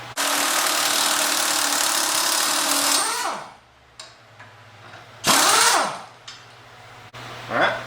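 A power impact tool works on a track bar bolt on a Jeep JK Rubicon during a lift kit install, a sustained loud rattling whir for three seconds, then short revving bursts and stops.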